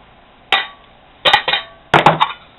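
Metal alcohol stove clinked into place inside a Kmart grease pot, three close, sharp metallic knocks and rattles separated by short pauses, with no talking.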